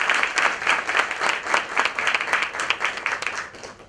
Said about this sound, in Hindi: आपकी जोरदार तालियों से फिर से हम लोग बुलाएंगे डॉक्टर जयेश पटेल सर को